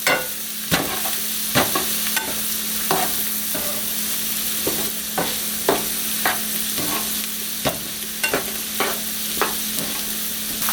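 Mushrooms and onions cooking down in a pan for a spinach quiche: a steady close sizzle broken by repeated sharp scrapes and taps of a utensil stirring, roughly a dozen strokes at irregular intervals.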